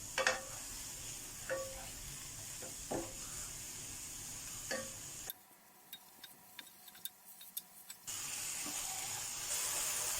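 Chicken breast stir-fried in a pan without oil, with a quiet sizzle and sharp clicks of a utensil against the pan at irregular intervals, briefly dropping quieter midway.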